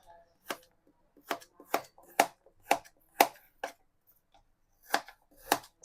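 A knife cutting apples into small pieces, about a dozen crisp, evenly spaced chops close up on a cutting surface, with a short pause partway through.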